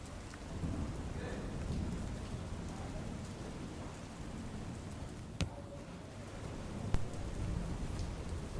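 Heavy rain pours steadily and densely during flooding in Keshod, Junagadh, Gujarat, with a couple of sharp cracks of thunder cutting through.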